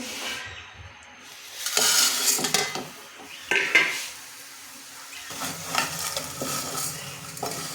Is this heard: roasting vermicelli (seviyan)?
yes